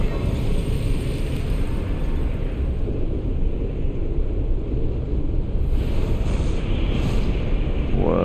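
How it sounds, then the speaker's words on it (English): A gust of wind in Elden Ring Nightreign, a steady low rushing roar that holds evenly throughout, like strong wind or surf, with no voices. "Whoa, it's a gust of wind."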